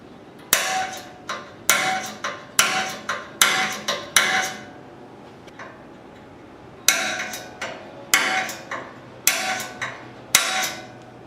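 A hammer strikes a punch at the top of a round surface during a Suzuki GS550 cafe racer build, giving sharp metallic taps in quick clusters of two or three. There is a short pause midway, then more bursts of close, ringing blows.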